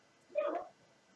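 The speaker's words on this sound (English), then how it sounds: "Excuse the dog barking." A dog barks once, faint and muffled as if from a basement below, a short yelping burst over quiet room tone.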